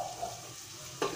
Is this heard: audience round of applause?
no